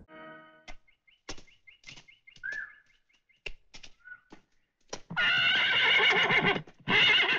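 A horse neighs loudly and at length near the end, after several short snorts and hoof knocks, with faint bird chirps in the background.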